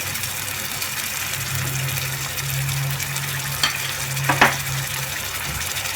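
Grated tomato added to a frying pan for a meatless stew, producing a continuous moderate sizzle and bubbling with a low steady hum underneath, plus a few brief sharp knocks of a utensil near the end.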